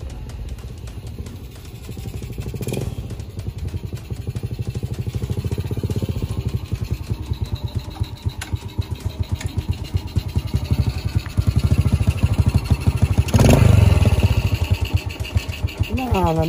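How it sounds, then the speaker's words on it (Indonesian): A motorcycle engine idles close by with a steady rapid putter, swelling slightly in the middle and later, continuous throughout. "Nah, nggak matiin motor ini."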